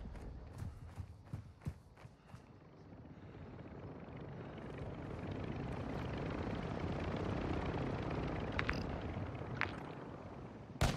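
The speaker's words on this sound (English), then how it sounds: "Helicopter flying in." A video game helicopter's rotor drone builds steadily and grows louder as it approaches, with sharp gunfire-like cracks and thumps scattered throughout.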